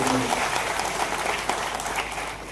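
A crowd at a large party workers' rally in Nashik claps steadily for meritorious students, a dense wash of applause that holds throughout and fades slightly at the end.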